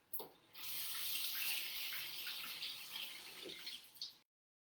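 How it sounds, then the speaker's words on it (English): Hands rinsed under a running kitchen tap, a soft steady stream of water splashing for about four seconds between quieter moments before cutting off, heard faintly with no talking. "I'm going to rinse my hands."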